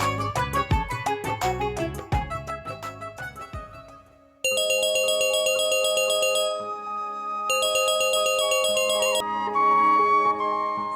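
A mobile phone ringing with a bright melodic electronic ringtone, a quick run of plucked notes followed by sustained shimmering tones, clear and loud with no voices.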